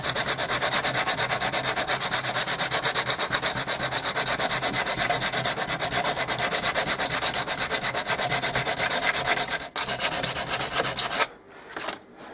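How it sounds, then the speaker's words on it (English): Rough sandpaper worked by hand across wood, a steady rapid back-and-forth rasping that runs continuously and close up, briefly pausing near the end. "sand it back."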